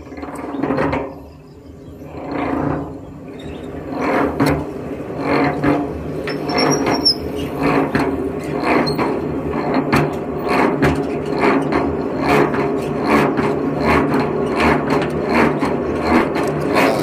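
A honey extraction machine processes honeycomb in the Sundarbans, giving a steady mechanical whirring and rasping with rapid repeated scraping pulses, loud and continuous after a brief quieter start.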